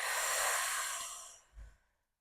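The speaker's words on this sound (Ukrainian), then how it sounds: "Давайте спробуємо ще вдих і видих" One deep diaphragmatic breath, a long airy exhale fading over about a second and a half, followed by a soft low puff of air, close to the microphone and otherwise quiet.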